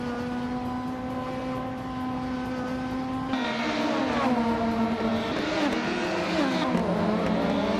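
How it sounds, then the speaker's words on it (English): A 1998 Ford Mondeo race car engine in a racing video game holds a steady drone, then surges louder as it revs and shifts through rising and falling pitches, continuous with no talk. "Silver Gaming is driving a 1998 Ford Mondeo and is currently in 8th place"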